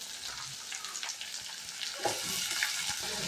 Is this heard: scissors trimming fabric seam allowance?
no